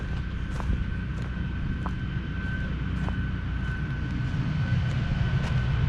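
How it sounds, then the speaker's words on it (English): A golf course maintenance vehicle drones steadily in the background, apparently sucking up leaves from the course, a continuous low engine hum that holds at an even level throughout with no talking. "That drone noise that you hear in the background is one of the golf course maintenance vehicles."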